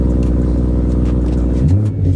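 Engine of a stage 1 tuned BMW M140i, a loud, close, deep steady rumble at idle. It swells slightly near the end.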